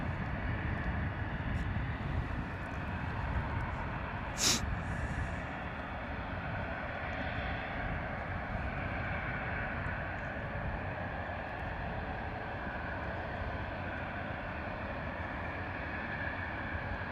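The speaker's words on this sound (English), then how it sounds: "EasyJet A320 Neo lining up on the taxiway waiting to depart runway 25" An EasyJet A320neo airliner holding on an airport taxiway, its engines a steady distant rumble and whine that continues throughout, with a sharp brief click partway through.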